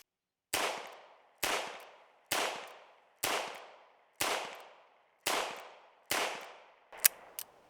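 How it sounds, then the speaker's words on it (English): Seven sharp, loud shots from a ported Taurus 692 revolver firing .38 Special rounds, evenly spaced about a second apart, each with a quick decaying ring, and a small metallic clatter at the end. "let's run some 38 specials, see what that looks like, and see how the port works on this guy."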